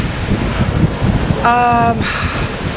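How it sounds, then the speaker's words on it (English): Gusty wind in Swanage Old Town, Dorset, rushes and buffets the microphone, a broad roar throughout, with a short tonal hum and a voice briefly audible. "It's getting windy."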